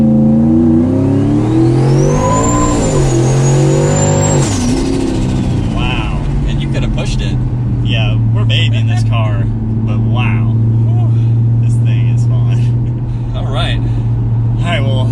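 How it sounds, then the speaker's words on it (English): A 1,000 HP turbocharged Ford Mustang GT revs hard from inside the car, with a rising, falling turbo whine over the roar before settling into a steady low drone while people talk over it. "you just hear so much turbo and that kind of motor sound"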